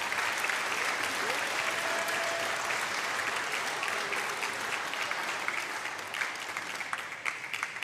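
Home crowd applauding at a European Champions League Final Four table tennis match in an arena, sustained loud clapping across the whole stretch, tapering slightly near the end, with commentary faintly under it.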